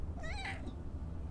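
A cat meows once, a short rising then falling cry, faint over steady low background hum.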